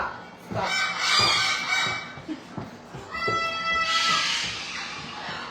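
Many Goffin's cockatoos at a bird rescue screech and squawk in a continuous, overlapping chorus of harsh calls, fairly close, with no clear speech.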